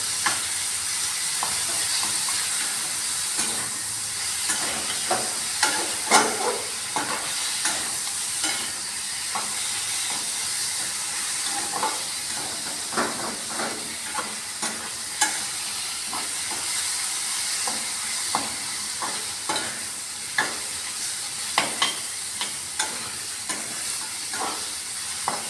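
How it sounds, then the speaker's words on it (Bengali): Potatoes and onion with green chilies and garlic being stirred in a hot frying pan for a soya-chunk curry, a steady sizzle and hiss under repeated scraping spatula strokes, close and continuous. "এখন পেঁয়াজ দিয়ে আমি আলুটা নাড়বো।"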